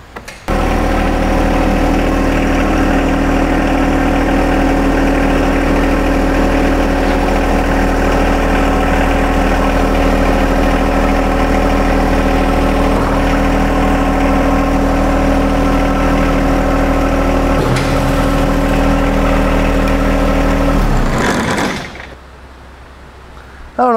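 A compact tractor engine runs at a steady idle, loud and close with a constant low drone and even hum, before cutting off abruptly near the end into near silence.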